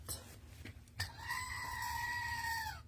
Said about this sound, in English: that's the goat freaking out